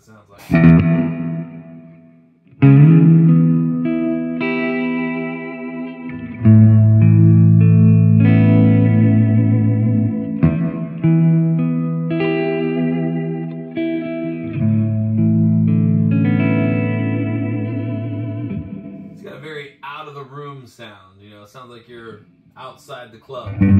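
An electric guitar, an Ibanez RG450DX, played through a Flamma FS02 reverb pedal into a Marshall 6100 amp, ringing out loud sustained chords with a long, washy reverb tail and a shimmering, warbling finish.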